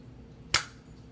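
A Nerf Double Down blaster fires a single dart, a sharp close pop with a brief hiss-like tail against quiet background.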